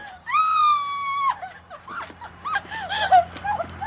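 A person screams loudly and sustained, then breaks into excited shrieks and laughter-like cries as the lights come back on after a blackout in Spain.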